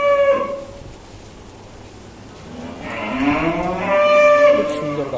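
A cow on a dairy farm with heifers and a young bull calf gives a short moo, then after a pause a long, loud, drawn-out moo close by, with no talking.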